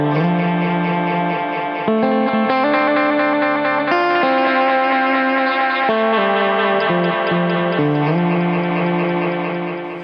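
A Korg 301dl Dynamic Echo, used without ducking, fills a loud, dense sustained musical passage with repeating echoes and high feedback, so the texture sounds busy and smeared throughout.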